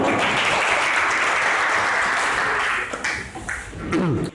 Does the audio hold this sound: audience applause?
yes